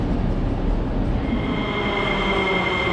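A metro train rides through a subway in Bulgaria, with a steady loud rumble of wheels on rails and a rising thin whine or squeal, heard from inside the car with no talking.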